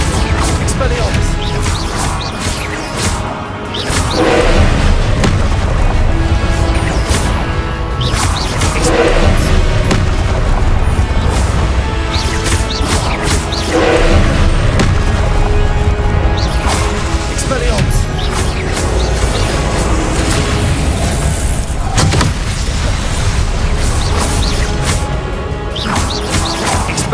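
Spell impacts in Hogwarts Legacy, with repeated crashing blasts and whooshes in dense, loud succession amid music and game effects, while a voice shouts spell names over the action.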